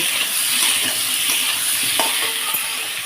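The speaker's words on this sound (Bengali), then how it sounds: "লবণ দিয়ে হালকা হাতে ভালোভাবে নেড়ে চেড়ে ভেজে নেব" Taro with salt being stirred and fried in a pan, a loud steady sizzle close up with soft scraping stir sounds and a light clink.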